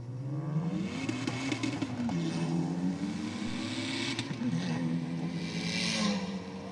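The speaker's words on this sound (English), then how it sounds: "Coming alive at the top end of the rev range in each of the gears." A Ford Focus race car screams through its gears on a drag strip run, the engine note climbing to the top of the rev range, dropping at each shift and climbing again, loud and continuous throughout.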